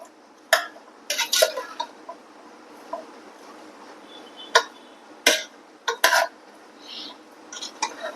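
A spoon clatters against a metal pot while vegetables and salt are mixed for vegetable pulao: sharp, irregular metallic scrapes and knocks come in short bursts close up, with quiet gaps between.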